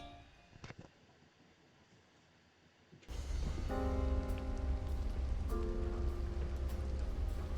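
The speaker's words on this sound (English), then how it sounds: "Endless rain" Rain falls in the video game Bear with Me, a steady dense hiss that starts suddenly and continues loudly under tonal game sounds.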